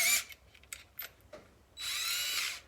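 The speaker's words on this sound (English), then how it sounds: "So I'm not splitting the wood when I go to drill through." A cordless power drill bores through wood in short bursts, first a brief high whine and then a sustained close run near the end, with quiet handling noises in between.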